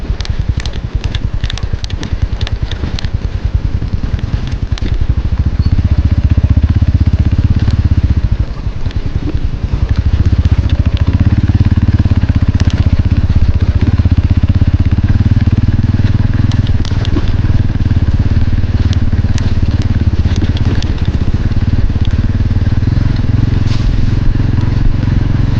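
Motorcycle engines rumble steadily throughout, with crackling and clattering over uneven ground and wind noise, loud and continuous without pause.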